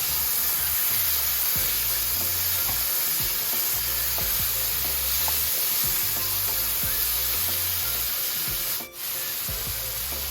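Vegetables sizzle in a hot pan as Schezwan chutney is stirred through them, a continuous frying hiss with soft scraping and knocking of the spatula throughout.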